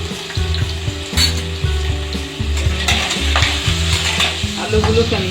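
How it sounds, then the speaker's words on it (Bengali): Potatoes frying in hot oil on a medium flame, with steady sizzling and repeated stirring and scraping in a pan, close and loud, with no talking. "প্রথমে আমি আলুগুলোকে ভেজে নেব। আলু দিয়ে দিচ্ছি।"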